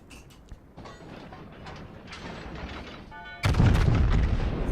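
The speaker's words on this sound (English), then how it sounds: "Yamato's firing on Varan" Yamato, a battleship in World of Warships, fires its main guns: a loud, deep booming salvo hits suddenly late in the clip and rumbles on after a quieter stretch of creaking mechanical ambience.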